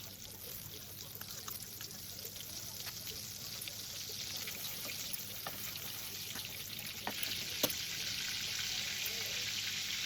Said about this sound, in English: Add butter cubes and let them melt completely.